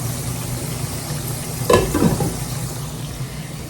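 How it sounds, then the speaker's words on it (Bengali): Potatoes frying in a pan during home lunch cooking, a steady soft sizzle with a brief louder burst of stirring or scraping midway. "আলু ভাজা হচ্ছে"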